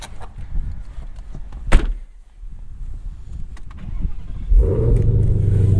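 A 2021 Ford Mustang Shelby GT500 with a supercharged 5.2-liter hand-built V8 cranks after a door thump and catches with a deep, loud bark, then settles into a steady rumbling idle close by.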